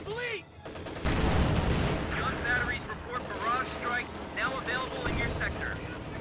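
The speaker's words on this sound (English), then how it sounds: "Was that like some random long shot from that Panzer IV?" Gunfire and an explosive blast from a Panzer IV tank in a World War II strategy video game, rapid crackling shots and booms over battle noise, with voices talking throughout.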